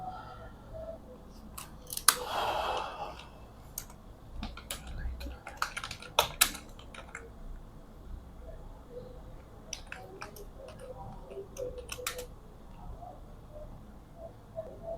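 Someone types code on a computer keyboard: scattered light key clicks in short, irregular bursts, faint and close, over a quiet background.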